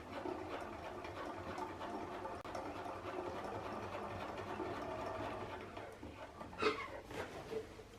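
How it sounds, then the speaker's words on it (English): A sewing machine runs a long basting stitch on a double circle skirt, a steady quiet whirr for several seconds that falls away near the end, with a few soft knocks and clicks. "So don't back stitch now, just do a long basting stitch."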